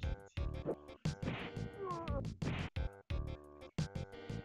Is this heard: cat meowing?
yes